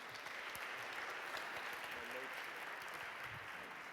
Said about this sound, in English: And a big applause for this panel.